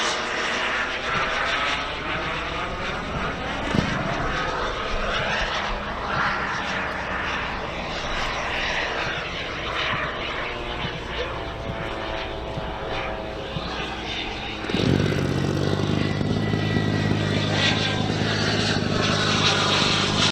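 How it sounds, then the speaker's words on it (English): A radio-controlled L-39 model jet with a 300-size turbine flies at an RC aircraft event, giving a continuous loud turbine whine that rises and falls as it passes, growing louder and harsher near the end. "This jet, I'm pretty sure is powered by a big 300 size turbine."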